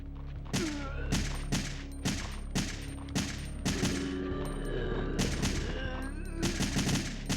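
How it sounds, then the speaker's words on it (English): Rapid gunfire from the PS1 video game Resident Evil 3 Nemesis rattles in repeated bursts of sharp, loud shots with brief gaps, firing continuously at enemies over a low game hum. "I'm just gonna gun them down"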